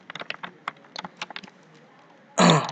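Computer keyboard typing during a basic HTML tutorial, a quick run of light, irregular key clicks in bursts over about a second and a half, close and fairly clear, followed by a brief louder broadband noise burst at the end.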